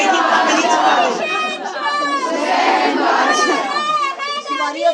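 A crowd chants slogans in unison at a religious Shaaban celebration, loud and rhythmic group voices rising and falling in waves, with chatter mixed in.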